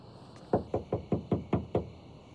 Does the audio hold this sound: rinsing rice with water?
no